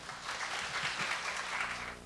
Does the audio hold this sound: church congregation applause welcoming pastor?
yes